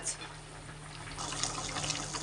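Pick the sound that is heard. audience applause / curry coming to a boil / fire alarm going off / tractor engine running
curry coming to a boil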